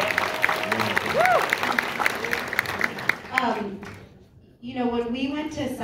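A studio audience at a talk show claps and cheers in a round of applause, heard under and between a host's speaking voice, rising and falling over a few seconds.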